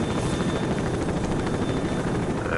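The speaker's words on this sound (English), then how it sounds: "I'm very much sick of the noise of that helicopter" Helicopter in the video game STALKERSOUP: a continuous rotor drone with a fast, even chopping pulse that holds steady and fairly loud throughout, with no talk over it.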